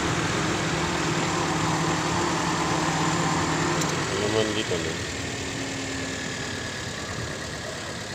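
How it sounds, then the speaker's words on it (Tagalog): A car engine idles steadily with a low rumble throughout, while someone talks over it nearby; the engine has a defective fan motor and is overheating. "Andar na rin yung kanyang makina."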